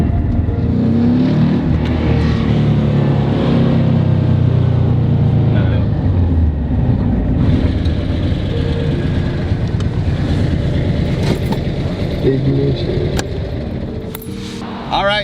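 A 1965 Porsche 356 C engine revs hard at high RPM, a loud, sustained rasping roar that rises and holds with rough fluctuations, close by, with wind buffeting the microphone.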